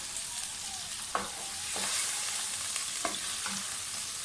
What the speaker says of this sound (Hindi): मटन को थोड़ा सा भूनें। मटन हमारा तकरीबन भून गया।